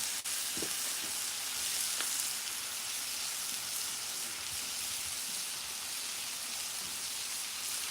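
Catfish fries in a skillet with a steady, bright crackling sizzle that runs unbroken, with a couple of faint clicks near the start and no talking.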